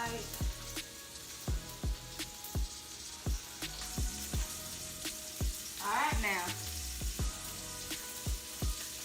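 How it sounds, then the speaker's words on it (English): Food fries in a pan with a steady, bright sizzle, punctuated by regular soft knocks, and a brief voice speaks near the middle. "All that sizzling, and I know you're not even done yet."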